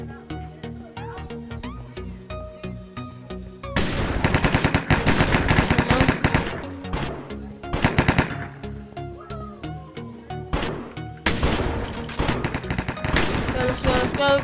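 Rapid automatic gunfire crackles in loud, sustained bursts during a Hypixel Minecraft shooting game, pausing briefly between volleys over a steady game soundtrack.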